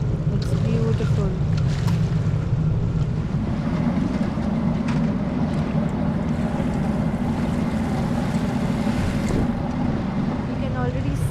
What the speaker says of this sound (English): It's such a short 5-minute ferry ride.